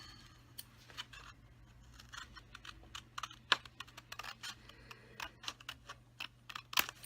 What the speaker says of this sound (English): So I'm going to cut here now. I'll use bigger scissors for the